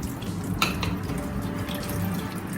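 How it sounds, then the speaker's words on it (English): Sweet pepper rinsed under a running kitchen tap while cooking ackee and saltfish, a steady close water stream splashing over the vegetable in the sink with a few brief brighter splashes. "And then I'm gonna wash my sweet pepper"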